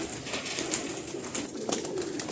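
Baby pigeons in a cage give soft, repeated cooing and small chirping calls over a steady rustling background, close by and continuous.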